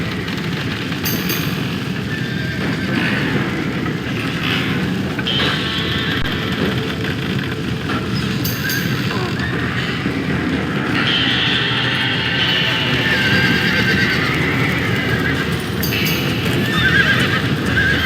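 Horses in Red Dead Redemption whinnying repeatedly over a dense clatter of hooves and stampeding movement, loud and close with several sharp neighs spread across the stretch.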